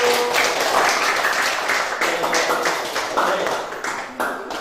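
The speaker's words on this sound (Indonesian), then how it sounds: "kita sambut bersama-sama dengan tepuk tangan perwakilan dari kelompok 1" A classroom of students claps together to welcome the representatives of group 1, with sharp, rapid, overlapping handclaps that run for several seconds and thin out toward the end as a voice speaks briefly.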